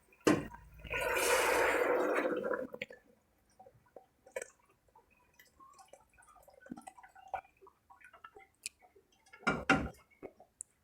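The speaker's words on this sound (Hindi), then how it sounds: "अब इसमें हम डालेंगे यखनी।" Chicken stock (yakhni) is poured into a pot, a rushing, splashing stream of liquid for about two seconds, followed by scattered faint drips and clinks and a short final burst of noise.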